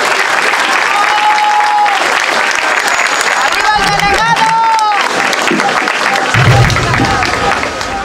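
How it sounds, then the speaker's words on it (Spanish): Loud, sustained applause from a crowd at a Claudia Sheinbaum political rally in San Pedro Xalpa, Azcapotzalco, Mexico City, steady clapping with cheering and babble mixed in, continuing throughout. "pido un fuerte aplauso"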